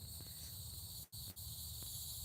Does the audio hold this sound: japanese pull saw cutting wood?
no